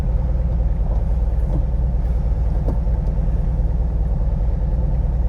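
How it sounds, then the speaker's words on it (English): A 1971 VW Bus engine idling close by, a steady low, chugging rumble with an even pulsing rhythm and a few faint knocks. "But it's running all right."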